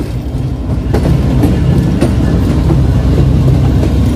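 The Tezgam Express, hauled by a GEU-40 diesel locomotive, rolls into Raiwind railway station with loud, close wheel rumble and steady rail clatter under a heavy low drone.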